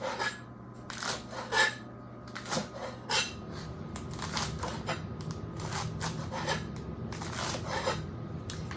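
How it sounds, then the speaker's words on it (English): Knife slicing lettuce leaves into fine chiffonade shreds on a cutting board, a run of close, crisp rasping cuts in uneven bursts, with no talking. "Kind of chiffonade them as well as you can, and just cut little"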